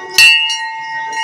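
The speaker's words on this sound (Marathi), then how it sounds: "घंटी पहा" A metal temple bell at a Shiv temple struck once, a bright close clang that rings on with a steady sustained hum, followed by a lighter second tap.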